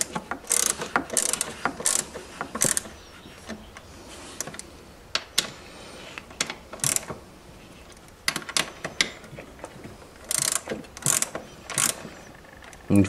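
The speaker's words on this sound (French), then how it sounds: "vous devez toujours effectuer le serrage de votre culasse en effectuant un serrage en croix, comme nous sommes en train de le faire" Cylinder head bolts on a scooter being tightened in a cross pattern, with repeated sharp ratchet clicks in quick bursts separated by short pauses, loud and close, no talking.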